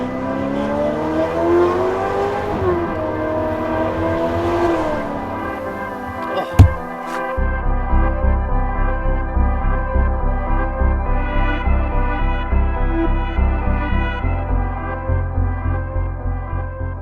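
A 900hp Ferrari F8 Tributo with Pure turbos accelerates hard at full throttle, its engine note climbing and then settling into a loud rhythmic pulsing. A sharp click sounds partway through, with no talk over it.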